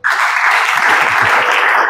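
A church congregation at an evening worship service bursts into loud, sustained applause, a dense wash of many hands clapping close up after a sudden start, with faint voices mixed in.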